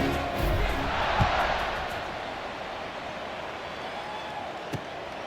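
Stadium crowd roaring at a college football game between Georgia Tech and Wake Forest in College Football 26, a broad steady cheer that swells early then settles into a sustained wash, with a couple of sharp thuds.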